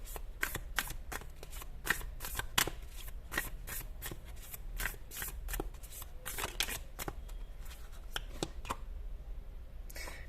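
A tarot card deck being shuffled by hand, a rapid series of crisp riffling flicks and slaps close up, repeating steadily before trailing off near the end, with no speech.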